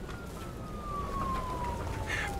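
A police car siren wails steadily in a video game, a single sustained tone slowly falling in pitch over a constant rumble.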